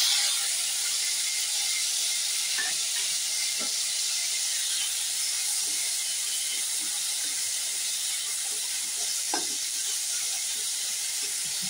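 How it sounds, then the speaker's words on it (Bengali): Food boiling in a pan at breakfast time: a steady, loud broadband hiss runs throughout, with faint scattered pops and bubbling ticks underneath and no voices. "এটা ফুটছে।"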